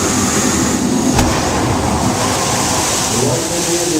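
A theme park torpedo explosion effect erupts on water during the Backlot Tour at Disney's Hollywood Studios: a loud, continuous rushing roar of churning spray, with one sharp crack partway through.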